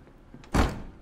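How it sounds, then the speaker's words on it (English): A bathroom door closes in the video game Life is Strange True Colors, a single broadband thud about halfway through, fairly loud against a faint background. "Oh, are you closing the bathroom door?"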